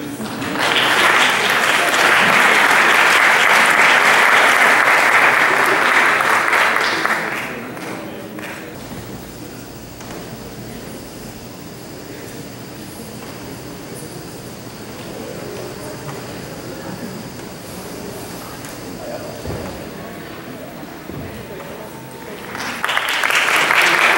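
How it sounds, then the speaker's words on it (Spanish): Loud applause fills a theater after a guitar ensemble performance, dense clapping for about seven seconds, then a long quieter stretch of hall murmur before clapping swells again at the end; no words spoken. "Recibamos un fuerte aplauso."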